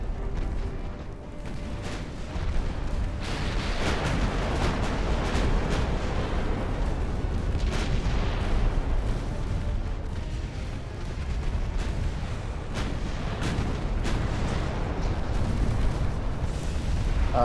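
Naval guns keep firing on a destroyer in Ultimate Admiral: Dreadnoughts, with 1890-era hulls. The heavy booms and explosions merge into a loud, steady roar of rumbling blasts with sharper reports punching through now and then. No one speaks.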